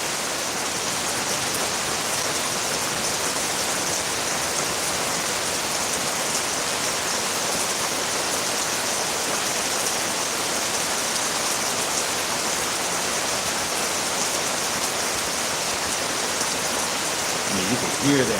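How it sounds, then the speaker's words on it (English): Heavy rain pours steadily during a mountain storm in Rincon, Puerto Rico, a dense, constant hiss of drops on surfaces that stays loud and unbroken throughout, with a brief bump of wind or handling near the end. "You can hear that rain coming down."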